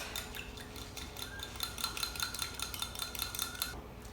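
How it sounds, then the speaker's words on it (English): Salt, pepper and olive oil being whisked in a bowl, a fast run of light metallic clinks and scrapes ticking steadily against the bowl, close and clear with no talk. "Okay, give that a whisk"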